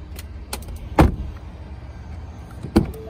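Panoramic sunroof motor on a 2020 Ford F150 Lariat: a few close clicks and thumps, then a short whirring hum near the end, inside a quiet cabin.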